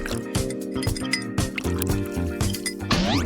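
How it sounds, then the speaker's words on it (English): Cold water poured by the spoonful onto powdered gelatin for Jell-O makes soft splashing and trickling sounds over steady background music. "Now, we need to add 4 spoons of cold water."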